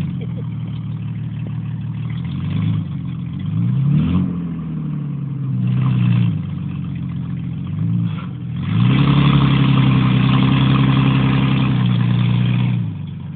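Supercharged Oldsmobile Cutlass donk with a rear lift setup, revving in repeated swells over a rough idle to warm its tires, with the loudest sustained burst near the end; a voice is faintly heard nearby.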